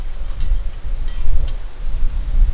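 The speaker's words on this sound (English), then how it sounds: "It's so windy" Strong wind blowing outdoors, a loud continuous low buffeting roar across the microphone with gusts swelling and easing and a few faint ticking sounds.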